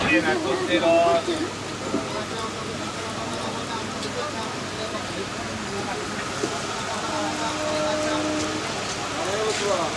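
Steady heavy rain hissing across the whole spectrum, heard aboard a Howrah–Bardhaman Main Line local train, with faint tonal rumble of the moving train underneath; no clear talk.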